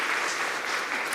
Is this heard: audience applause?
yes